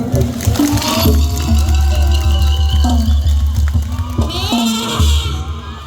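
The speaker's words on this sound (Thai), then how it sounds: "ขอเสียงปรบมือหน่อยครับ" A Thai likay folk theatre audience in Korat claps and cheers steadily, a dense crowd noise with shouts rising above it, and no speech over it.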